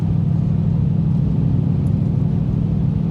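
Lexus GX470 with its V8 engine driving, a steady low rumble and drone held evenly throughout, loud and close with no talk.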